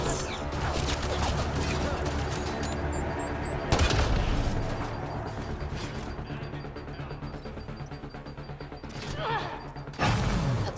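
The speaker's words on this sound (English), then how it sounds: "That's a turret." Turret gunfire in the Mass Effect video game, sustained rapid bursts and shots layered over game effects and a low rumble, loud and continuous with sharp impacts near four and ten seconds.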